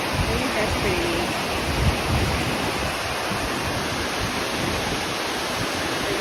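Lake water pouring over a worn concrete wall at a state park lakeside trail, a steady broad rush of falling water that stays constant and fairly loud throughout, with no talk.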